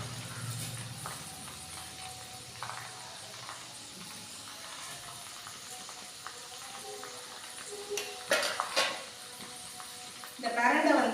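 Soft, steady sizzling and bubbling from herbal oil made with pirandai (veldt grape) simmering slowly in a pan, with occasional stirring scrapes and a few louder clatters near the end.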